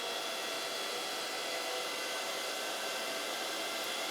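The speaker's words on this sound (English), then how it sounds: "I hear a fan spinning up" Antminer KS3 miner fan running at a steady, loud broadband whoosh with no break, alone without voices.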